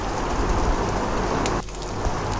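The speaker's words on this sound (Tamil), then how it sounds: "உளுந்து பொரியட்டும் இப்போ ஒரு ரெண்டு மூணு பால் பூண்டு சேர்த்துக்கலாம்" Urad dal and garlic cloves sizzling in hot oil for a ridge gourd peel chutney, a steady dense crackle that continues without pause and drops slightly in intensity partway through.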